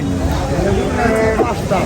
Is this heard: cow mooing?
yes